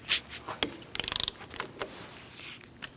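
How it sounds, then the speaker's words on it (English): A 10mm socket ratchet clicks in a quick burst of about eight sharp ticks while loosening a brake caliper bolt on a 2000-2006 Mini Cooper during a front brake job, set among scattered metallic taps and handling noises. "now I'm going to use a 10mm socket and just crack this open"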